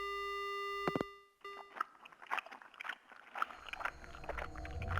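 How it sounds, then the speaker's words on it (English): A telephone dial tone from the horror game Spirit Hunter: Death Mark hums as a steady, clear electronic tone for about a second. Soft crunching and rustling noises follow, with no voices. "The only sound I hear is the dial tone."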